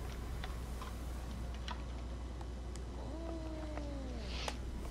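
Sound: cat pet meowing in video game DC Universe Online

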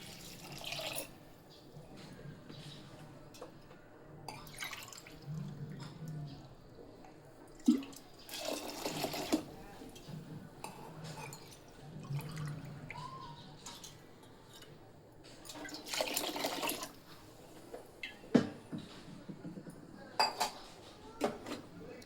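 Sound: water poured into washed dal for cooking

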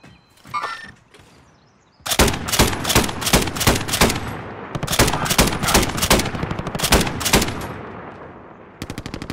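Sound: gunfire in Call of Duty Modern Warfare video game

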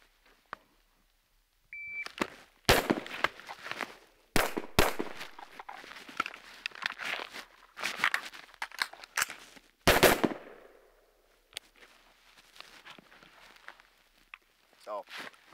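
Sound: gunfire during long gun to pistol transition drill

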